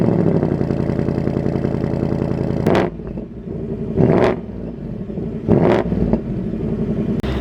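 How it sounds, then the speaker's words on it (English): A 2026 Ford Mustang GT Convertible's V8 exhaust idles with a steady close rumble, broken by three quick throttle blips that rise and fall, with no talking. "Get a little exhaust clip."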